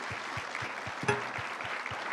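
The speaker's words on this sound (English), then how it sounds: "let's just give one final round of applause for the governor, everybody" Faint applause from an audience of students for New York Governor Hochul at an event at HVCC, a soft patter of clapping with a few louder thumps and a brief sharp knock partway through.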